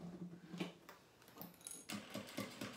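A sewing machine stitches fabric lining in quick, uneven bursts of needle clatter, close and quiet, with a short pause midway before it runs again.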